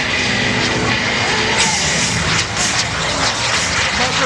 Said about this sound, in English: the FLS Microjet